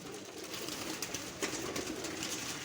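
Flying pigeons coo softly, their low, faint calls blending into a quiet outdoor background.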